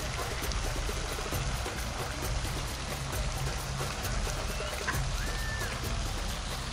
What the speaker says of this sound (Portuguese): Mais uma queda de água ali.